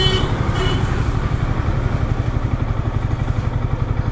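A motorcycle engine runs close by with a steady, even thumping pulse that stays loud and unchanging throughout, with no one speaking over it.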